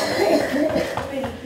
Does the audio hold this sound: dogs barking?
no